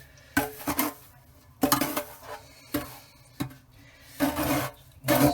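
A bucket trowel scrapes and pushes floor leveller into the corners of a sub cabinet, making short, gritty scraping strokes in irregular bursts with quiet gaps between them.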